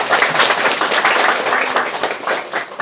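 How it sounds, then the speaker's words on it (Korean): Congregation clapping together during a Sunday church worship service, a dense, steady wash of many hands filling the room at close range throughout, with no talk over it. "하나님께 영광 돌리면서 우리 박수 한번 하겠습니다."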